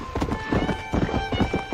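Horse hooves clip-clop in a steady cantering rhythm in the Red Dead Redemption video game, close and prominent, with occasional snorts or whinny-like sounds and a faint tonal game background underneath.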